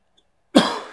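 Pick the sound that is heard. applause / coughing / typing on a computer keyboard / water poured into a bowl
coughing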